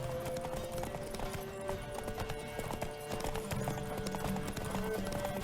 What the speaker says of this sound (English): come on, stupid horse